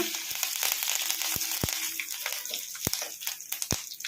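Curry leaves crackle and sizzle as they drop into hot tempering oil with mustard seeds and cumin, giving a close hiss with sharp pops scattered through it and no speech.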